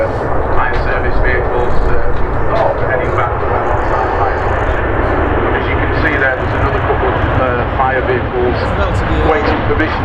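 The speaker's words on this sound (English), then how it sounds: "there's a Virgin A330 on the takeoff" A Virgin Atlantic Airbus A330 jet takes off at Manchester Airport, its engines a loud, sustained roar that rumbles broadly throughout, heard from outdoors with wind buffeting and crowd noise around it.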